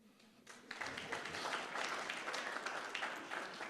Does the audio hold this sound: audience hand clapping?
yes